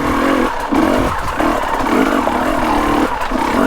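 A motorcycle passes on a slippery rocky trail, its loud engine droning and revving steadily throughout with clattering, no talk over it.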